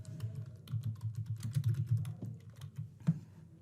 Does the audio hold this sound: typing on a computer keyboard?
yes